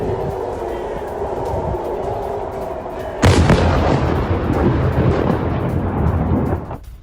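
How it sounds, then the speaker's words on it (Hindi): An Iranian missile attack in Al Quds sets off a sudden loud blast that cuts through a low rumble and gives way to a sustained roaring, crackling aftermath before it abruptly drops away. "ईरानी मिसाइल अटैक से जोरदार धमाका भी होता है।"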